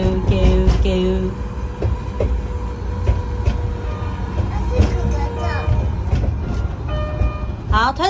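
A miniature ride-on train runs at the Kyushu Railway Museum in Japan, giving a steady rumbling roll with faint clicks, while children and adults talk loudly nearby and excited voices rise toward the end.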